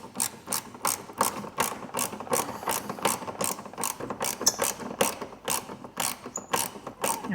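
A ratchet tightens 8mm bolts on the side of an MG ZS front bumper, a loud, rapid run of evenly spaced clicking strokes, close up and uninterrupted.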